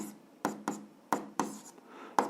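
Chalk or pen strikes and scratches across a board while an algebra equation is written out, six sharp taps, each followed by a short scraping stroke, in an otherwise quiet room.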